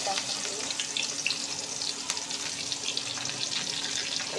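Cumin seeds and coarse chili powder sizzle steadily in about half a ladle of hot oil while okra fry is being cooked, a continuous close, crackling hiss with light spattering.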